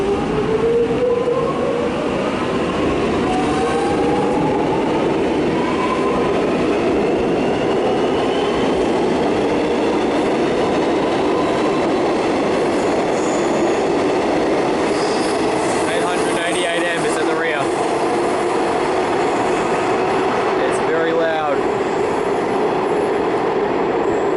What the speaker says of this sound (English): And the trains are parting.